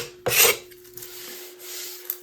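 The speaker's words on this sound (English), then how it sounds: "what I'm using to do most of the finishing work is a card scraper" A card scraper drawn along a wooden axe handle made from rived lumber, one crisp rasping scrape followed by quieter rubbing strokes and a faint tap near the end, with a steady low hum behind it.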